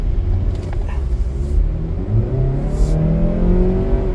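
A 2.5-liter Mazda CX-50 SUV engine accelerates steadily, with a rising drone and whir that stays loud and continuous from the cabin and has no talk over it.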